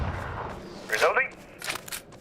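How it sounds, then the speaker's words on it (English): A weapon reloads in the first-person shooter E.Y.E. Divine Cybermancy, a short burst of metallic clicks and clacks followed by a couple of quick mechanical snaps, fairly faint. "Reloading."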